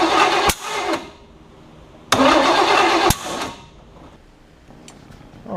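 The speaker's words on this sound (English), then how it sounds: "All right, so it's backfiring, which means it looks like I'm probably 180 degrees out from where I want to be with the distributor." A 1980 Camaro's 5.7 small-block V8 cranks and coughs on a first start attempt with the distributor out of time, giving loud bursts of cranking and two sharp backfire pops, then quieter sputtering in between.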